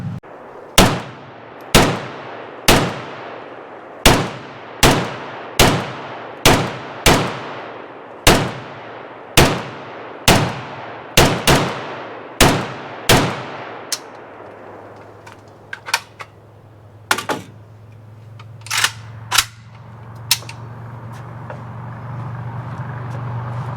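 Semi-automatic shots from a Chinese Type 56 AKS rifle, a Clayco-imported early commercial model, about fifteen sharp, loud reports at a steady pace, followed by a few scattered fainter shots over a low rumble.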